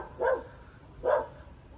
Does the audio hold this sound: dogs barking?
yes